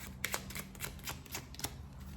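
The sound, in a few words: shuffling playing cards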